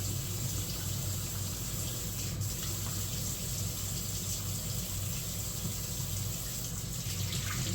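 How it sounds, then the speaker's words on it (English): Running tap water pours steadily into a kitchen sink while hands are washed, a constant close rushing splash with no talking. "I'm going to wash my hands again for the 3rd or 4th time since I started this"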